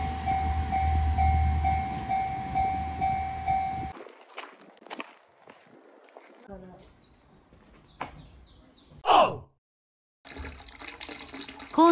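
A Shiretoko Mashu train departs Kawayu Onsen station toward Kushiro, rumbling with a steady tonal hum, then giving way to clanks, squeals and bursts of mechanical noise, with a brief silent gap near the end.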